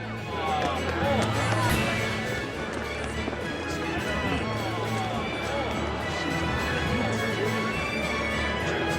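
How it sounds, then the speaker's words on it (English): Dense crowd chatter and footsteps fill a busy town square in Tales of Berseria after a troupe's dance show, a steady murmuring hubbub of many voices at moderate distance with no single speaker standing out. "What's with this crowd?"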